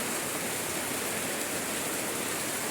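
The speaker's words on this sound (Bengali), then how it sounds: "আর এই গরমের পরিবর্তে শুরু হয়ে গেল ঝমাঝম বৃষ্টি" Heavy rain pours down steadily in a village, a dense, continuous roar of falling water that fills the whole clip with no pauses or voices.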